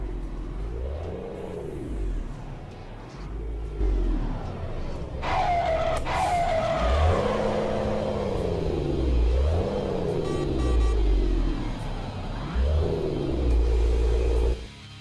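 Scania truck engine in Euro Truck Simulator 2 with a sound mod pack, a deep diesel rumble that revs up and down repeatedly as the truck pulls away through the gears, steady and close.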